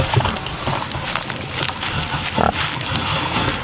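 Pigs on pasture grunt and snuffle close by in a busy overlapping chorus of low, rough grunts with occasional louder squeals, heard alone without talk.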